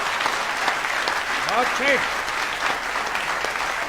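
A live audience applauds after a patriotic Hindi poem recitation about women's courage. The clapping is full and sustained throughout, and a short spoken remark rises over it partway through.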